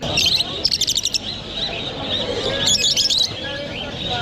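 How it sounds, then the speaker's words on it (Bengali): Busy, overlapping bird chirps and tweets in bursts at the Mirpur 1 bird market in Dhaka, over a crowded, murmuring background, with some indistinct voices mixed in. "পাখির কিচিরমিচির"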